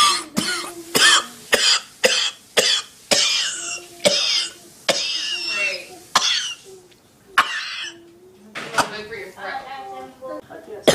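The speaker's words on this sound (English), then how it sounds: "That was me coughing." One person coughs repeatedly and loudly up close, a rapid series of sharp bursts with brief throat-clearing sounds and breaths between them.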